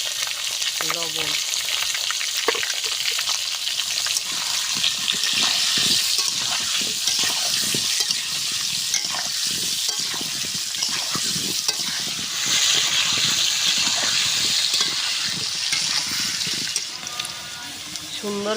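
Potatoes fry in hot mustard oil with turmeric and salt in a village wok, a loud continuous sizzle with repeated stirring scrapes and clinks, and a brief watery splash near the end.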